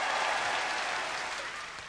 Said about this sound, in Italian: E quando io dico Ezio Mauro o il direttore di Repubblica, parte sempre un applauso.